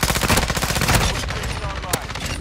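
ISO 45 submachine gun firing in Modern Warfare, a rapid, loud automatic burst of close shots for about a second, then scattered single pops and lingering echo.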